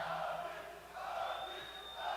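A crowd at the UFC 229 pre-fight press conference for Conor McGregor and Khabib Nurmagomedov roars and shouts in a sustained, dense wash of voices, with no single speaker standing out.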